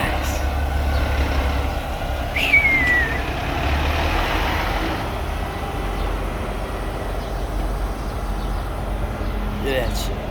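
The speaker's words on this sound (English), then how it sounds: "it's just coming out of the truck wash" A truck rolls out of a truck wash in Barstow, California, its steady engine drone and road rumble filling the scene, with a brief hiss and people talking over it.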